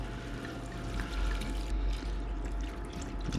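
Red wine pours into a pot of short ribs, a continuous soft liquid gurgle and splash heard close and steady throughout, with no one speaking.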